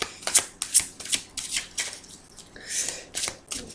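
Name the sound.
tarot cards being cut and shuffled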